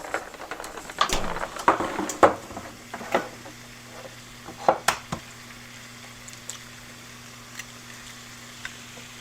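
Breakfast sausage frying in a pan, with a steady soft sizzle under scattered clinks and stirring knocks, busier in the first few seconds and then quieter, close by with no talk.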